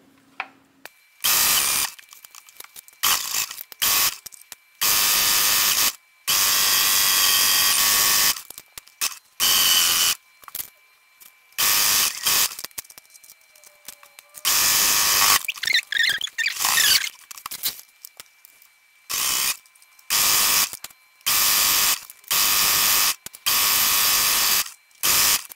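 A sewing machine stitches along a garment leg for a two-piece set in many short, stop-start bursts of whirring needle motion, close up, with quiet gaps between runs and no speech.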